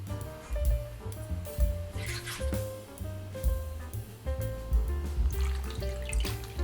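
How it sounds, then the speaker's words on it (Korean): Vegetable stems for kimchi are rinsed by hand in cold water, giving irregular splashes, sloshes and drips close by, with short bursts of movement and no talk. "찬물로 서너 번 씻어서 건집니다."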